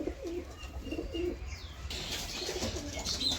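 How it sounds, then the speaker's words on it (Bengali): Soft pigeon cooing repeats in low, rounded calls, with a few higher chirps and a brief wing flutter nearby. "তো পায়রাটাকে ধরে নে, পায়রাটা ওড়াই"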